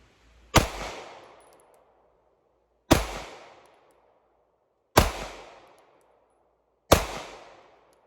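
A Beretta pistol fires four single shots about two seconds apart, each a loud, sharp crack followed by a short ringing decay, with quiet between shots.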